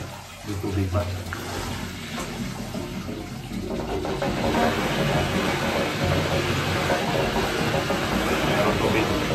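Loud, steady rush of high-pressure water during a swimming pool filter backwash, a broad continuous roar that builds slightly and holds, with a voice speaking over it.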